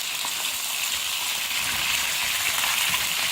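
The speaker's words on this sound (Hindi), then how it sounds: "मैंने हाफ कप ऑयल लिया है, उसके अंदर हम अपना गोश्त शामिल करेंगे। इसको हम हल्का सा फ्राई करेंगे ऑयल के अंदर" Mutton frying in half a cup of hot oil gives a dense, steady sizzle, loud and close, with a constant crackling texture and no talking.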